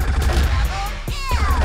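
Rapid burst of M4 rifle fire in a video game, a quick string of sharp cracking shots over under two seconds, close and loud, with a spoken voice mixed in.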